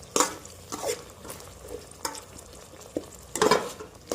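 Tomatoes for biryani cook in a pan with a soft, quiet sizzle, broken by several sharp scraping stirs of a utensil against the pan.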